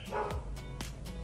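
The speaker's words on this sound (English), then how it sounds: "my dogs are barking" Several dogs bark in short, sharp bursts from a moderate distance, four or five quick woofs spread over about a second, with no talking.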